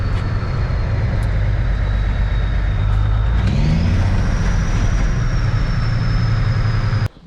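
I Heart Milk trucks drive past on a rural road with a steady, heavy engine rumble. The whine shifts upward midway as one goes by, then stays even until the sound cuts off abruptly.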